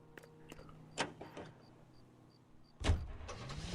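Car in the video game L.A. Noire, a low rumbling drive with a few sharp clunks and a louder surge near the end, no talk.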